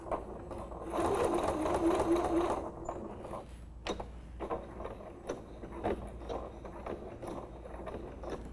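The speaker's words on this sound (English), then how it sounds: "because you can't always see when you're stitching the gap shut" A sewing machine stitches a bag lining gap shut, a close rapid whirring run for a couple of seconds, followed by quieter ticks and mechanical clicks as the fabric is handled.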